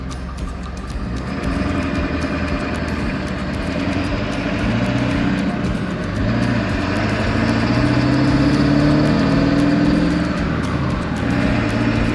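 A 7.3 Powerstroke diesel swapped into a 1941 Ford truck idles at about 600 rpm, a steady, loud low rumble with a smooth mechanical chatter that holds evenly throughout.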